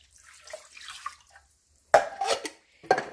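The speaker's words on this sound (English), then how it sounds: "So I'm going to pour this whole can of chicken broth." Chicken broth poured from a whole can into a cooking pot in a home kitchen, a faint trickle at first and then louder splashing bursts of liquid, with no talk.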